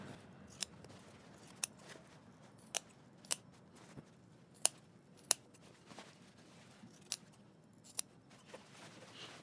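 Scissors snip fabric for a Simplicity 8615 jumpsuit, giving about a dozen crisp, sharp cuts at irregular intervals against a quiet room background, close and fairly faint.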